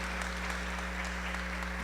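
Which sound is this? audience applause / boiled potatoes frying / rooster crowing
audience applause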